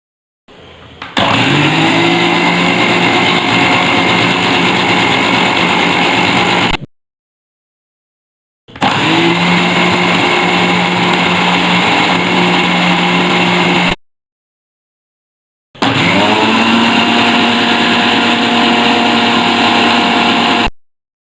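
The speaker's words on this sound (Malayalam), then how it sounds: "ഇത് കുറച്ച് ഇതിലേക്ക് ഒഴിച്ച് നമുക്കൊരു 3-4 തവണയായിട്ട് ഇതൊന്ന് അടിച്ചെടുക്കാം." An electric mixer grinder blending sunflower oil into a mixture for a chicken sandwich, three loud whirring motor bursts of about five to six seconds each, separated by brief silent pauses.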